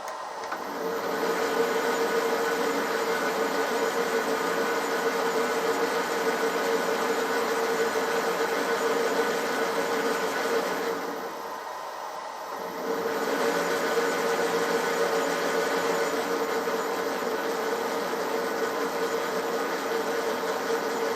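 A 16U04P lathe running at low speed on its replacement motor gives a steady, continuous mechanical hum and whine with a constant tone, dipping briefly partway through before resuming at the same level.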